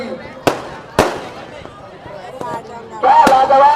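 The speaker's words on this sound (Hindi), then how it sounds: "पटाखों की गूंज चारों तरफ मैदान के सामने दिखाई दे रही है" Firecrackers burst at a KPL cricket final ceremony in Karanpura: sharp, loud cracks ring out one after another across the open ground, with crowd noise and a rising hum building under the later blasts.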